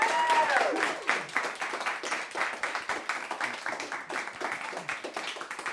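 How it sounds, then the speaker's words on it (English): Dense audience applause at a community monthly meeting, many hands clapping steadily and fairly loud for nearly six seconds, gradually thinning toward the end, with no voices over it. "let's give a round of applause to John O'Shea"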